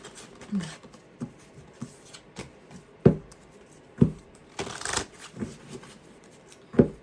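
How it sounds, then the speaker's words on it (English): Tarot cards are shuffled by hand in a series of soft, irregular riffles and taps close by, with a few sharper slaps and a longer riffle midway. "I'm going to shuffle these a few times."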